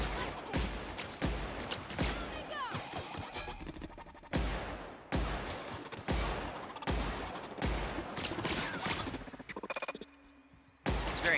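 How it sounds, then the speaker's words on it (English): A plasma cannon fires repeatedly in the video game The Outer Worlds: loud, harsh, crashing blasts in rapid bursts and volleys, with brief gaps and crackling between shots. "they gave you this plasma cannon"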